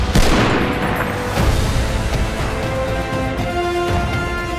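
Loud booming gunfire and explosions from a World War II battle scene in the Call of Duty WWII trailer, a heavy opening blast followed by continuous rattling shots under a sustained musical drone.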